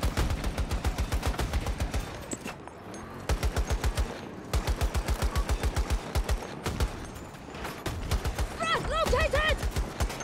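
The top gunner's machine gun on an M5A3 tank fires in a video game, with long rapid bursts of sharp, evenly spaced shots broken by short pauses.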